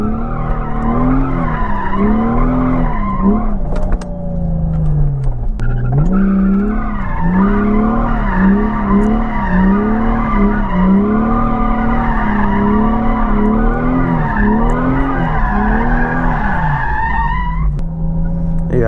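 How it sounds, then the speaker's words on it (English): A car with a welded differential spins donuts at night, tires squealing in long wavering howls over the strained, revving engine, loud and close for most of the stretch. "That was a pretty good donut."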